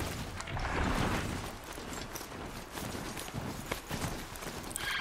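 A horse clip-clops at a riding pace through a herd in Horizon Zero Dawn, quick rhythmic hoofbeats up close and fairly loud over a busy game backdrop, continuing for several seconds with no speech.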